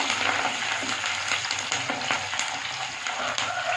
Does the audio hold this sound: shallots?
yes